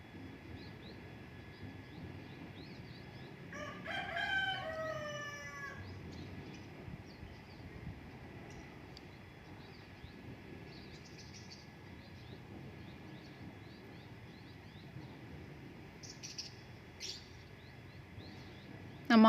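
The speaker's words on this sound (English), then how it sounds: "as you can hear the birds, the chicken cawking" Quiet outdoor morning ambience with scattered bird chirps and a brief clucking call from a chicken, set against a low distant rumble.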